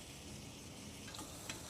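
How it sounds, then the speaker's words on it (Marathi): Onions frying in a pressure cooker for mutton biryani, a continuous quiet hiss of sizzling oil with a couple of faint clicks, close and steady, no voices. "कांदा पूर्णपणे ब्राऊन होईस्तोवर आपण कांद्याला फ्राय करून घेऊ"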